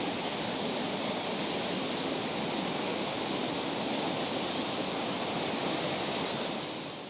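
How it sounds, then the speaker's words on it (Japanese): A wide curtain-like waterfall spilling about 10 meters over a lava ledge in Kumamoto, heard as a steady, dense, loud roar of falling water that stays constant throughout with no talk. "幅約20メートルの滝で、お茶の CM のロケ地にもなった人気スポットです。"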